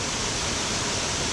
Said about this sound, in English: We're now checking out the second waterfall.